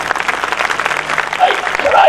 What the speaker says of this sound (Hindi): ताली बजा के परमेश्वर को दया